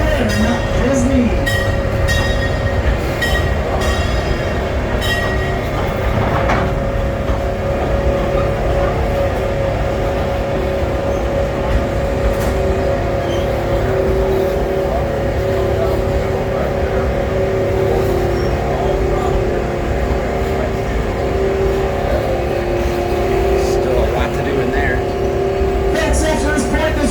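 Scenic Railway amusement park train ride at Six Flags Great America, a steady rolling rumble with wheel squeals and occasional clinks, running continuously from start to end with no voices.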